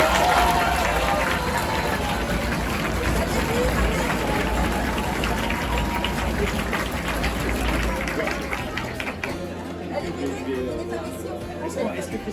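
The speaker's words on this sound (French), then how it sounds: "on les applaudit très fort" A crowd applauds the participants at the Concours Carto Imaginaire contest event in Angers: dense, sustained clapping mixed with chatter and crowd hubbub that stays loud for most of the stretch, then thins toward the end.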